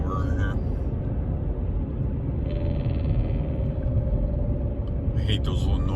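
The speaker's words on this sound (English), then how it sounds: "I hate those little noisemaker cars." Small, noisy cars passing on a road near a swap meet in Ensenada, Mexico, with a steady loud engine rumble that holds throughout and a brief higher engine whine partway through.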